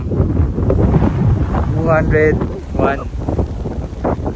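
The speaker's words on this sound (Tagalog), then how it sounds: "Masarap dito kasi malakas yung hangin, malamig." Strong wind gusts buffet the microphone at a mountain campsite on Mt. Batulao, a loud low rumble under a person speaking, with brief whistling tones mixed in.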